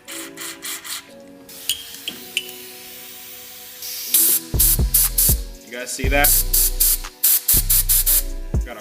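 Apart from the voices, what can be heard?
air spraying out of go-kart engine part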